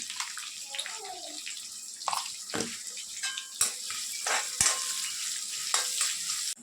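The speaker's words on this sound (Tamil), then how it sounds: "இப்போ வெங்காயம் வதங்குறதுக்கு கொஞ்சமாக உப்பு போட்டுக்கிறேன்" Onions sauté with salt in a hot pan, crackling sizzle punctuated by sharp clinks and scraping of a utensil stirring, close and moderately loud.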